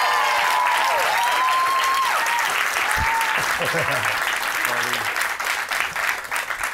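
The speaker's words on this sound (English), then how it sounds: "Can we give him a round of applause for being here?" A college audience in Miami gives loud, sustained applause welcoming a singer, a dense wash of clapping with cheers and whoops, easing slightly toward the end.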